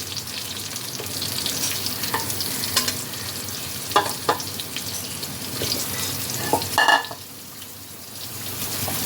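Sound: bottle gourd frying and being stirred in oil with ginger

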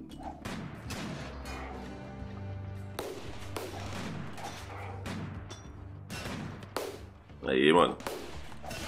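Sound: gunfire in the video game RimWorld

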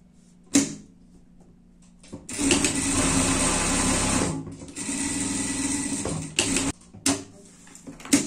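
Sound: overlock sewing machine stitching pet clothing

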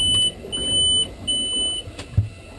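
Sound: boat engine monitor alarm beeps, Volvo Penta V8

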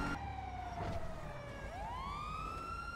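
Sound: police car siren in a video game (GTA roleplay)

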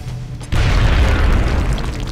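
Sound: grenade explosion in XCOM Enemy Unknown video game

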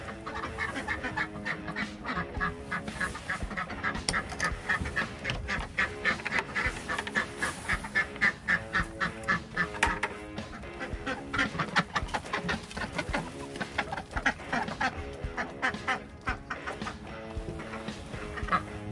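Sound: ducks quacking

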